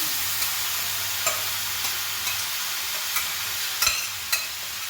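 Jackfruit pieces frying in hot oil for chakka upperi, a steady bubbling sizzle with occasional sharp pops and spoon scrapes, close and continuous.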